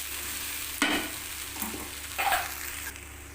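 Onions and okra sautéing in a pan for okra fried rice, a soft continuous sizzle broken by several louder scraping stirs of a spoon against the pan.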